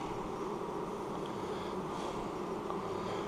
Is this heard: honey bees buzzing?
yes